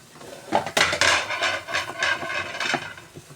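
A utensil stirs a tomato and egg dish in a cooking pan, with repeated metallic scrapes and clinks of irregular rhythm, close and fairly loud.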